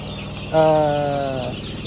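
Young chicks awaiting debeaking let out one sustained, high-pitched chirping call, close and clear, lasting about a second over a low steady background hum.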